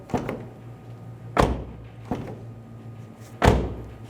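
A 2011-2014 Hyundai Sonata rear door handle clicks, then the door thumps shut; this repeats, with solid closing thuds alternating with lighter latch sounds, close by.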